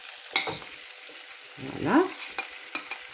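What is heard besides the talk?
potatoes sautéing in a frying pan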